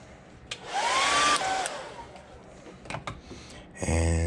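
A hair dryer blasts close up to dry paint on a custom fishing lure, a loud whooshing roar with a rising whine that soon cuts off, followed by a few light clicks and handling knocks.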